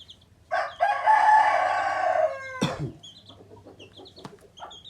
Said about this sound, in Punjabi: ਆ ਵੀ ਕੁੱਕੜ ਸੋਹਣਾ ਆ